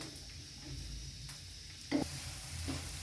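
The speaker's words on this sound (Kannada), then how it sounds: "ಫ್ರೈ ಮಾಡ್ತಾಯಿದ್ದೀನಿ ಈಗ." Bitter gourd pieces fry in a pan on a low flame, a faint, steady sizzle with occasional light stirring clicks and one sharper knock, close and quiet, without speech.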